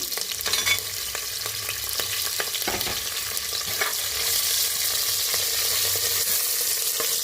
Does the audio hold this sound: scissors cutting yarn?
no